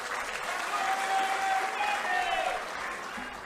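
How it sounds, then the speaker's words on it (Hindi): Loud crowd applause at a political rally, a short burst of dense clapping with a faint tonal cry or whistle riding above it, holding steady for a few seconds. "जननायक राहुल जी के लिए फिर से जोरदार तालियां"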